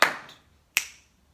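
Two sharp, close clicks spaced about three quarters of a second apart, each a bright snap-like tap that quickly decays, clicked out to mark the rhythm of the nursery rhyme phrase Pease Porridge Hot in a music lesson.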